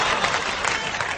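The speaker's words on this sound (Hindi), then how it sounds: "इनके लिए ताली बजा दीजिए आप लोग भी" Audience at a Hindi comedy poetry gathering applauding, a thick, even wash of clapping from many hands, loud and sustained throughout.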